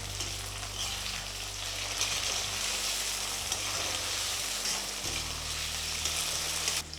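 Tomatoes frying with onion and garlic in a pan for Chettinad vendhaya kulambu, a steady close sizzle with light stirring scrapes throughout and a brief shift near the end.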